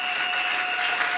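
A church congregation claps in steady, dense applause to acclaim the Lord, a continuous crowd of hands close and fairly loud with no talking.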